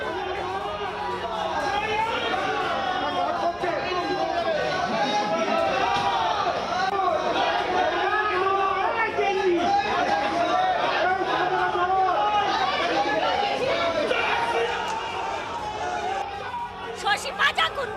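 BJP supporters protest outside a court, a loud, continuous crowd of overlapping shouting voices and chatter with scattered bangs, close and constant throughout.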